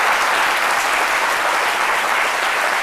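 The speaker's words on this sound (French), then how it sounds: "Je crois que ça mérite pour la qualité de l'écriture quelques applaudissements" Loud, dense applause from a studio audience on a daytime talk show, a thick uniform wash of clapping that holds steady the whole time without talk.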